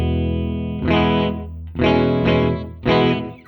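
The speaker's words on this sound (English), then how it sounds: "It's an electronic reverb based on an obsolete analog delay chip often found in karaoke units." An Alexander Space Force pedal in its analog electronic reverb mode, built on an old karaoke-style analog delay chip, processes three sustained distorted chords with a chorus-like shimmer, each swelling loudly over a lingering wash.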